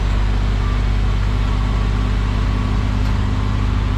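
A Triumph GT6 engine idling as it warms up, an even, throbbing low drone that stays constant and nearby for the whole stretch, with no talking.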